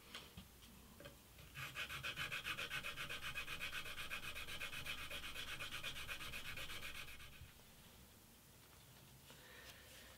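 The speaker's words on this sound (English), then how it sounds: "This is 600 grit, so let's see if we can get a polish on." Steady close-up rubbing of 600 grit sandpaper polishing an inlay repair on an antique parlour guitar, a continuous scratchy back-and-forth that swells loud for about five seconds, then tapers to softer strokes.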